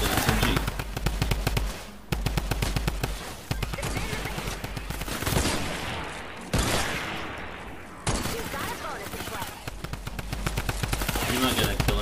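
Rapid SMG gunfire from the Fortnite Save the World video game, fired as a soldier against husks, rattles in dense bursts nearly throughout with brief gaps between volleys, loud and close.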